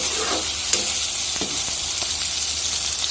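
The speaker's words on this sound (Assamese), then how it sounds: "আপোনালোকেও বনালে অলপ মাংসখিনি ভাজি ল'ব মিডিয়াম ফ্লেমতে ভাজিব" Steady crackling sizzle of meat frying in a pan over medium flame, with a few soft scraping stirs, continuous and close throughout.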